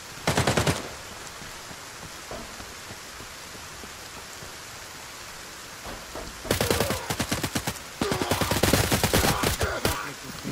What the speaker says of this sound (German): drei Leute schießen auf ihn